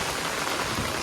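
Heavy rain pours down in Keshod, Gujarat, a dense, steady roar of drops drumming on surfaces, loud and close with no gaps.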